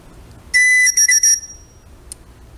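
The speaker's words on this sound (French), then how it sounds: "Et on a aussi un sifflet normalement qui est monté dessus." A whistle mounted on a Tops Fieldcraft knife sheath gives several shrill, piercing blasts, one long and three short in quick succession, then a tiny chirp after a pause, loud and close.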